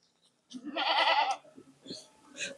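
A Beetal goat on a goat farm gives one loud, drawn-out bleat lasting about a second, followed by a few softer, scattered animal sounds close by.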